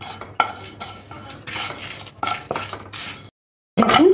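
Spices and four dried red chillies are dry-roasted in an empty pan, with repeated scraping and rattling strokes of a spoon against the metal. There is a short silent gap, then another loud stir.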